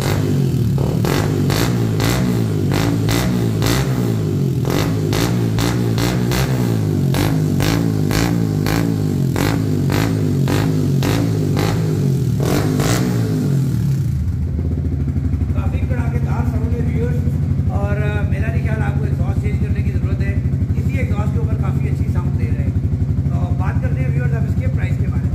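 A Yamaha motorcycle is run for a sound test, with loud close engine revving for the first half that then drops to a lower rumbling idle, with a voice talking over it.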